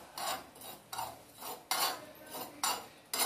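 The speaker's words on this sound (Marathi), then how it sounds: "स्लो गॅसवर आपल्याला हे व्यवस्थित भाजून घ्यायचे." Cumin and ajwain seeds roasting in a pan over a low gas flame, with repeated scraping and stirring strokes of a spoon against the metal, about six rhythmic bursts, close and moderately quiet.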